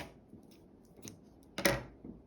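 Scissors snip through crochet yarn for a baby's seahorse mobile, a single close, crisp cut rising sharply mid-clip over a few soft handling rustles.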